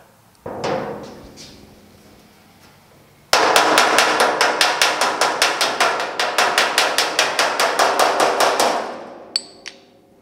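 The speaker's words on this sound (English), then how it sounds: "we'll know if we should stop or keep hammering" A hammer beating on sheet metal to work out a small crease, a few isolated strikes followed by a fast, steady run of about twenty-five loud ringing blows close up, then a couple of final taps.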